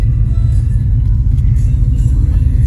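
A new Dodge Charger R/T or Scat Pack EV plays its simulated exterior engine sound, a loud, steady, deep rumble that holds for the whole moment with no pauses and no talk.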